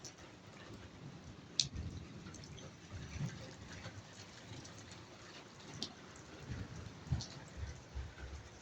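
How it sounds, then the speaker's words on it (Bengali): Rain falls steadily outdoors with scattered drips and light splashes, a soft continuous patter at moderate distance with a few sharper drops standing out. "কেমন বৃষ্টির শব্দ, আকাশ ঘুরমুর ঘুরমুর করতেছে।"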